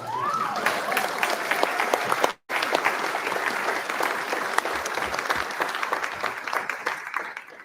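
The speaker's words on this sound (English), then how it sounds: "We have another round of applause." Audience applause at an author forum fills the room, dense and steady, with a brief dropout partway through before the clapping resumes and carries on to the end.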